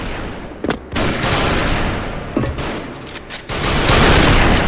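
Heavy TAC-50 sniper rifle gunfire from the video game Special Force, loud sharp shots in quick bursts with a booming tail, separated by brief lulls.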